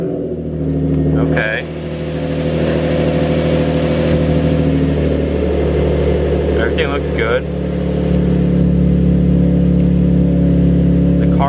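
A Nissan 350Z engine idles steadily from cold just after a camshaft sensor replacement, a low continuous hum heard with the windows down while someone speaks briefly over it.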